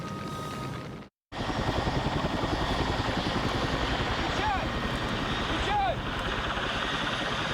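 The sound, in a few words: helicopters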